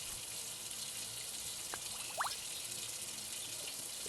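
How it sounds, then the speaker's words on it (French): Water from a bathroom tap runs steadily while hands are washed with soap after a shower, a continuous faint wash with a couple of small splashes and clinks midway. "Je vais me laver les mains"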